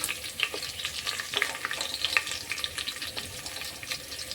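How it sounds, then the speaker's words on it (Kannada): Curry leaves and garlic frying in oil crackle and pop up close, an uneven sizzle with sharp spatters and occasional stirring clinks over the few seconds. "ಈಗ ನಾ ಕರಿಬೇವು ಹಾಕೋತೀನಿ ನೋಡ್ರಿ ಬೆಳ್ಳುಳ್ಳಿ ಹಾಕೋತೀನಿ"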